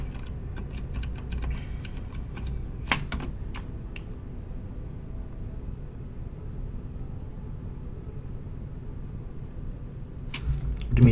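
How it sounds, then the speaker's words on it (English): Loud computer mouse clicks during a live map-decorating session in Portal: Revolution, arriving in quick irregular bursts early on, then a long quiet stretch before a few more clicks near the end. "My mouse, yeah, I've got a loud mouse."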